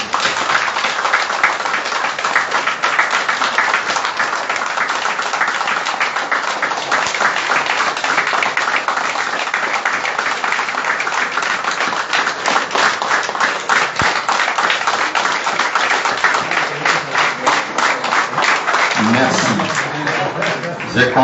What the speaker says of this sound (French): applaudir 60 secondes sans rupture pour ces 25 récipiendaires